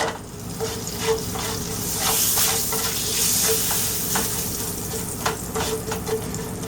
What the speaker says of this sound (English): So asafetida, you need to put it always on little bit of hot oil.